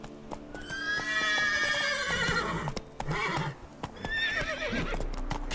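Roach, a horse in The Witcher 3, gives several loud whinnies close by over steady hoofbeats of a gallop, with a short break in the middle before the neighing and clip-clop resume.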